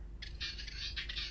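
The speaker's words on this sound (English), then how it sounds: "That's a bird." A short bird call of several rapid, rasping squawk notes sounds at moderate volume over low background hum, with no other voices.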